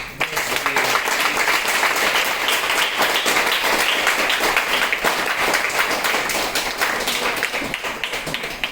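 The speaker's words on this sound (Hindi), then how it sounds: "आइए हम उनके लिए एक ताली बजाएं।" An audience claps together at a Hindi-language spiritual gathering, giving dense, steady applause that stays loud and even for about nine seconds with no talking over it.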